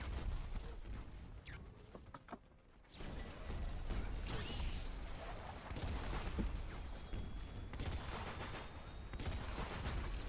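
Rapid gunfire from a Frenzy Gunner enemy in a video game, loud bursts of repeated shots with whooshing effects, a brief lull around the third second, then sustained dense firing to the end.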